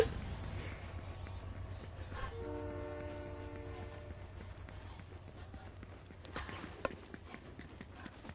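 Train horn in the Fortnite video game: a sustained multi-tone blast sounds at moderate distance for about two seconds, amid rumbling in-game background noise and faint clicks.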